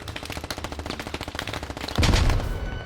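Rapid automatic gunfire from a Canadian weapon in the Squad shooter game, a fast steady burst of close, loud shots that swells into a heavier blast of fire near the end.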